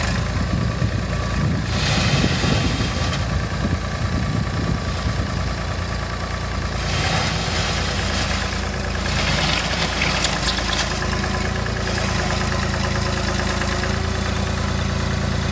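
A digging machine's engine runs steadily, idling and working as its buckets move garden dirt for raised beds, a continuous loud rumble with some clanking across the whole stretch.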